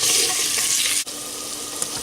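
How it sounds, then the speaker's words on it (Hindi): Finely chopped onions fry in oil in a clay handi, giving a steady, dense sizzle throughout with a brief dip partway through. No one speaks. "प्याज को हमने इतना फ्राई करना है कि ये ट्रांसपेरेंट हो जाए"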